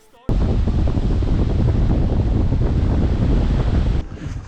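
Strong wind roars on a bridge by the sea. It is loud, steady buffeting noise that hits the microphone hard for several seconds before easing off near the end.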